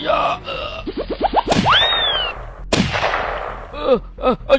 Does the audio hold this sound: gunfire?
yes